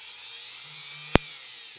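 Dremel rotary tool spinning with a carbon fiber ring mounted, a faint steady high whine with a low hum, broken by one brief sharp click near the middle.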